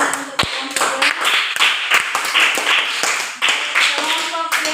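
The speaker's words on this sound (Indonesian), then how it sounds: "Tepuk tangan untuk kelompok budak" A small group in a classroom claps for a presenting team, with irregular, sharp individual claps and taps rather than a dense roar, close and fairly loud.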